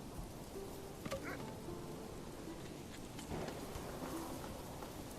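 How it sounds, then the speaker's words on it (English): Rain falls in the medieval city-building video game Manor Lords as a soft, steady hiss with scattered drops and a faint low rumble, quiet and continuous under occasional light game sounds. "Oh, it's raining."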